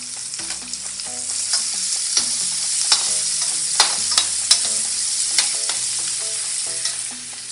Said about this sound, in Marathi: हा मसाला आपण चांगला परतून घेऊयात खमंग.